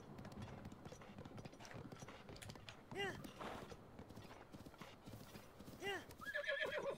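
A horse in Breath of the Wild clip-clops at a steady gallop while neighing twice in sharp whinnies, with someone talking over the hoofbeats.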